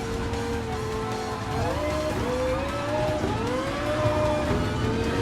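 Race car engine in the video game Gran Turismo Sport, a loud steady droning whine that climbs in pitch through several gear shifts as the car accelerates, continuous and close with no talking.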